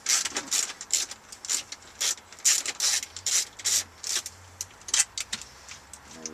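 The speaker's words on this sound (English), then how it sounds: "We'll remove the mounting screws." A hand ratchet removes the stereo mounting screws in a Ford Explorer dash, making bursts of sharp, quick clicking, close and moderately loud, repeated about a dozen times with brief pauses.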